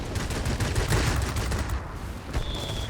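Rapid machine-gun fire from a Fw 190 A-5 fighter in World of Warplanes, a loud continuous burst of rattling shots that runs nearly the whole time, dense and close with no pauses.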